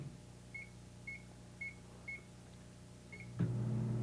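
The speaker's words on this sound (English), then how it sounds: "Put it in the center of the microwave with this side down. And set time for 3 minutes." A microwave oven holding a popcorn bag, set for three minutes: five short, evenly spaced beeps from the keypad, then the low steady hum of the oven starting up, quiet and close.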